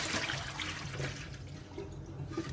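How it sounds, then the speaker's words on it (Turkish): Water runs steadily from a tap as a clay casserole pot is scrubbed with a dish sponge, a soft continuous splashing and rubbing close by and fairly quiet, with no voices. "bulaşık süngerimle beraber bu şekilde güvecimi yıkıyorum"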